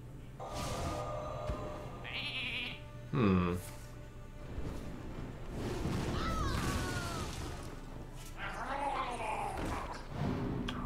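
Cartoonish sheep bleats from a card video game, several short wavering cries scattered over game sound effects and creaks, at moderate level.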